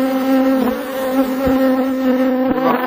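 Honey bees drone loudly and steadily close by at an apiary, a dense continuous buzz with small shifts in pitch as individual bees pass near.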